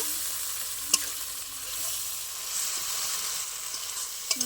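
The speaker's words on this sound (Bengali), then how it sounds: "এবার আমি সব একসাথে ভালো করে আরও ভালো করে কষে নেব" Spice paste being fried and stirred in a pan for a Bengali khoira fish curry, a steady soft sizzle with occasional sharp scrapes of the spoon, fairly quiet and without talk.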